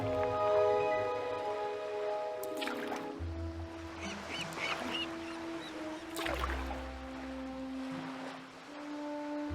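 Duck-like bird calls in the Nancy Drew game Danger on Deception Island, sounding alongside a deep foghorn-like tone and steady ocean wave ambience, loud and close with no talking.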